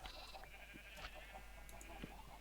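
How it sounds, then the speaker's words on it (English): Flock of sheep bred and penned in a Minecraft farm, several short bleats from different animals overlapping faintly against a constant low hum. "All of the sheep have been bred and put inside our farm"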